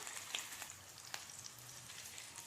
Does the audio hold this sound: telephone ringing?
no